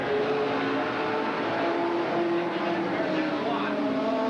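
Outlaw 100 race cars roar together around an oval track, a dense steady engine drone heard from a distance with shifting pitch as they circle, overlaid by an announcer's voice.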